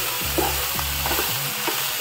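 Chopped banana flower is stirred and fried in a pan, three scraping strokes of the spatula over a steady sizzle, close and moderately loud, with no talking.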